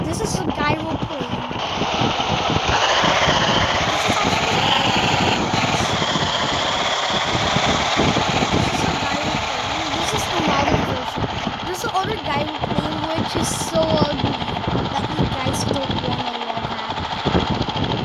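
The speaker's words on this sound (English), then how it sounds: "see what heli is this? This is a gyro plane." A gyroplane engine in a video game drones steadily at close range, with a buzzing, rapidly pulsing rotor-like texture, while a voice talks over it throughout.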